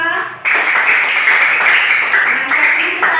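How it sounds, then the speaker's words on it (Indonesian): Elementary school pupils in a classroom clap their hands together in a loud, fairly even burst of applause that starts abruptly and continues for a few seconds. "Berikan tepuk tangan untuk kita semua."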